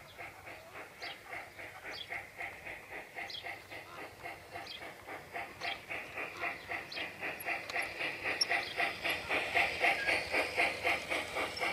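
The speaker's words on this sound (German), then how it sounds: "Und der Putzzug, ja, ich nenne ihn mal meinen Putzi-Zug, funktioniert gut." An LGB garden railway track cleaning train climbs an uphill grade, its motor whirring with a regular rhythmic pulsing clatter that grows gradually louder and nearer throughout.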